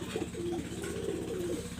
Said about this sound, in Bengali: শিয়ালকুটি কবুতর একজোড়া বেবি দেখাচ্ছি